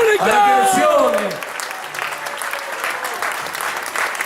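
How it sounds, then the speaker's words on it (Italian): At the Baita Lago disco in Treviso, a voice calls out loudly before the crowd breaks into applause, a rough, fairly distant patter of clapping that continues under the room's noise. "Ma un applauso grande fatevelo voi, a tutti quanti voi, da soli."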